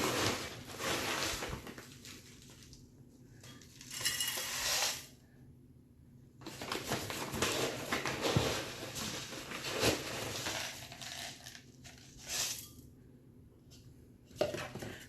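Bonsai soil mix of akadama, pumice, lava rock and a little turface being handled, gritty rattling and clinking of the granules in bursts separated by quieter pauses.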